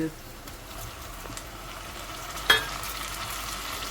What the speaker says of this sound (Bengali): এই যে পেঁয়াজটা ভাজছি না, এটা সফট হওয়া পর্যন্ত একটু ভাজতে হবে